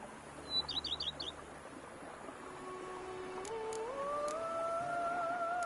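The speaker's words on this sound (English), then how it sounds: "Bees buzzing, birds chirping." Birds chirping in a video game, a quick cluster of high tweets near the start, followed by a sustained tonal hum rising in steps over quiet ambience.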